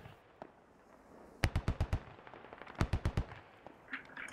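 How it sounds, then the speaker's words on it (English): Enemy machine gun fire in the military shooter game Squad, two rapid bursts of about five sharp shots each, loud and close, with a few scattered shots between and after. "We have been down by enemy machine guns."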